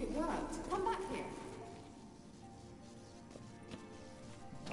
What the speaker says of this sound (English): Kelpie. I know this one. Horse.